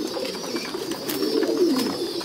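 Pigeons coo softly and repeatedly at close range while parent birds feed their chicks, a low, rolling call that rises and falls over a couple of seconds.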